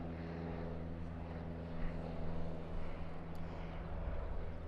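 A propeller aircraft engine drones steadily at Southend Airport, a continuous low hum that swells slightly midway, heard at moderate distance with no talk.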